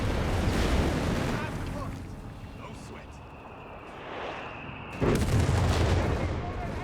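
Bazooka fire strikes a Panther tank's side armor in Company of Heroes 3, heard as booming impacts and explosive bursts amid ongoing battle noise, with a sharp loud hit near the end.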